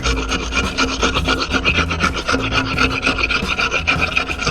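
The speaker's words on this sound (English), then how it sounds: "We scraped like this on these propellers and the rest of her hull for about 2 days." Hand scrapers rasp steadily against the barnacle-covered propellers and hull of the USCG Cutter Richard Snyder, a loud, close, continuous grinding scrape with quick repeated strokes and no talking.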